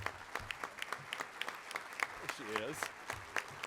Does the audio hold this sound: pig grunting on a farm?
no